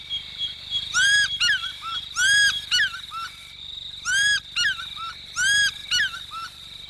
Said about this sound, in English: the Great Lakes harbour an eagle whose call typifies the African wilderness